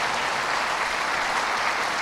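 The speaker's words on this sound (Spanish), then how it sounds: "queremos darte este aplauso de bienvenida" A church congregation applauds in welcome, a dense, steady wash of clapping that fills the room at a constant level from start to finish, with no voices standing out.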